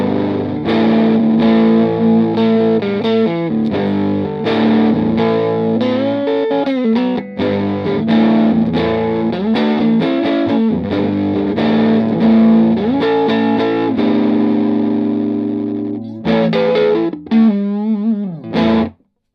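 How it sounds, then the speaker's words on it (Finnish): Electric guitar through a Väre Dirt Fuzz pedal set with fuzz at zero and smooth at maximum, giving a gritty crunchy rock tone; a continuous run of loud, distorted chord riffs with rhythmic strums, ending in a brief pause and ringing chord. "lähdetään semmoisella mukavan rouheella rockisoundilla, eli futsi on nollassa ja smoothi täysillä."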